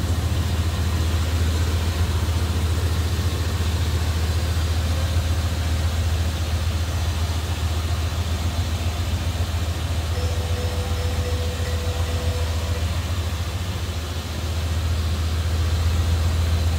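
A 1987 Chevrolet Monte Carlo SS with its original 305 V8 idles steadily and smoothly, a close, continuous low engine drone without any talk.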